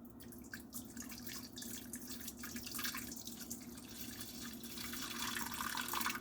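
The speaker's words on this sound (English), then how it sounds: "This water is already hot coming out of the kettle." Hot water is poured from a kettle into a fermentation machine while making bread, a steady, continuous splashing stream that swells slightly toward the end.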